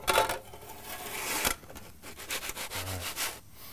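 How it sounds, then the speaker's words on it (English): A pizza slid onto a pan, giving scraping, rubbing friction noises with a sharp thud of the pan partway through and softer shuffling afterward. "You want to slide that on onto the pan?"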